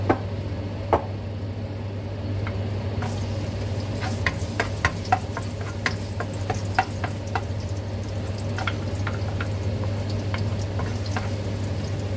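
Ground beef browning in olive oil in a pan: a steady, close sizzle with a low hum underneath, punctuated by scattered clicks and taps of stirring, with no talk.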